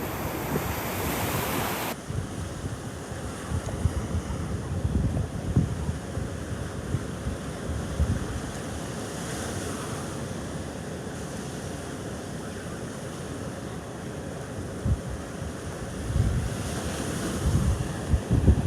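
Ocean waves wash and roll in repeatedly while wind buffets the microphone during Hurricane Elsa at North Naples, Florida, a constant roar with periodic swells of surf.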